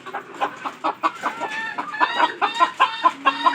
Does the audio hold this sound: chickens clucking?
yes